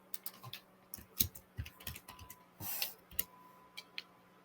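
Computer keyboard keys clicking in short irregular bursts of taps, fairly faint and close, with a brief louder rustle partway through and no talking.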